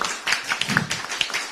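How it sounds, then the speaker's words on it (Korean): Dense applause from a crowd at a Korean political rally, loud and close, a continuous patter of clapping lasting a moment. "여러분 박수 부탁드립니다."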